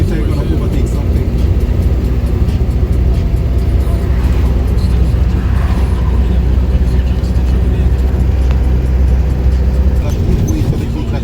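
A van's engine drones loud and steady from inside the cabin during a driving lesson on a road in Portmore, Jamaica, with road rumble throughout and people talking over it.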